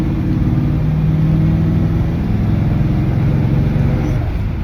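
A 1950 Ford F-1 pickup truck drives along with a steady, loud mid-pitched engine drone, rising as it pulls through the gears with no one talking.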